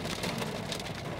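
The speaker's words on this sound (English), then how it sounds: "We got some rain." Steady rain falls in a dense, even hiss, close and continuous, with no voices over it.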